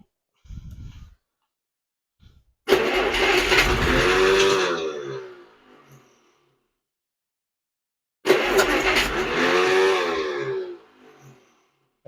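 An old Dodge engine, sitting unused for 75 years, cranks and fires in two separate bursts, each about three seconds of rough, loud running that dies away. A brief crank comes first, and no one talks.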